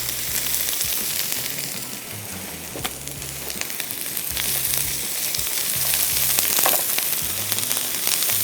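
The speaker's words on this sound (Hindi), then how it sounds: "बाय द टाइम ये अदरक लहसुन इसमें फ्राई होगा तो प्याज भी मुकम्मल तौर पे" Ginger, garlic and onion fry in a hot pan with a dense, steady sizzle and crackle, and brief spatters and louder pops break through now and then. No one speaks.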